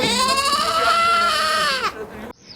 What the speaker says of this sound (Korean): 주택단지 바로 뒤에서 기르는 흑염소들이 내는 소리입니다